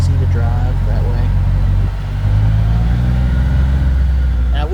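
A 2025 CF Moto U10 Pro UTV accelerating, a loud low engine drone that briefly dips then pulls strongly again, heard close with a voice talking over it.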